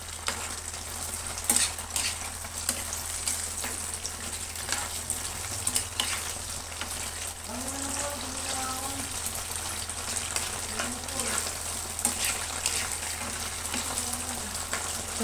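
Six hotdogs fry in a pan with a steady sizzle and scattered crackles and spattering, moderately close, while a person talks intermittently over the cooking.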